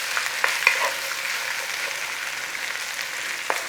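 Potatoes are stirred as they fry in a pan, giving a soft, even sizzle with a few scraping knocks from the stirring near the start and the end.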